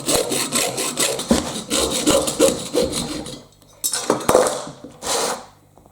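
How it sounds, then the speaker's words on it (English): A hand saw cuts through part of a Bruder toy jeep clamped in a vise, making quick, rasping back-and-forth strokes up close, followed by a pause and a few final strokes. Nobody talks. "the easiest and quickest is just to take the saw and cut it across"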